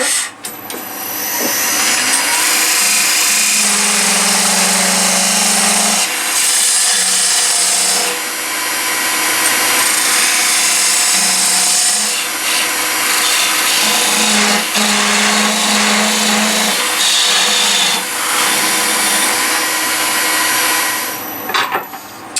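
A power tool cutting a wooden piece for a paper-pot mold, loud and close, running almost nonstop with a whining motor tone and short dips as the cut pauses.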